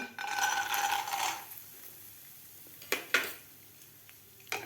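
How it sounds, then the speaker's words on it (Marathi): Peanuts tipped into three to four spoonfuls of hot oil in a pan over medium heat give a close, hissing sizzle for about a second and a half. Scattered metallic clinks and taps from the pan follow, with no talking. "आता यामध्ये घालायचे तर आपल्याला शेंगदाणे"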